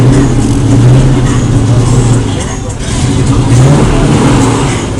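A carbureted car engine at a car show runs and revs loudly, its throaty drone rising and dipping steadily throughout, with voices nearby.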